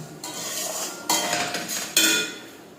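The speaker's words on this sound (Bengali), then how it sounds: "পেঁয়াজটা ভেজে নিচ্ছি" Onions frying in oil in a pan for a Bengali prawn malai curry, a steady loud sizzle and hiss that swells in several bursts as the pan is stirred, with no voice.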